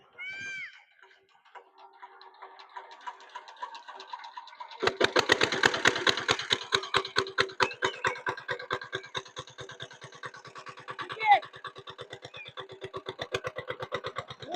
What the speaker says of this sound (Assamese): ষ্টাৰ্ট কৰিছে ট্ৰেক্টৰ।